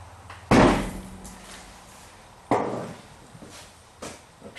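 An 8-pound sledgehammer hits a Jeep Wrangler rear wheel to break it free from the brake drum. Two heavy, close metallic thuds land a couple of seconds apart, each ringing briefly, followed by fainter knocks.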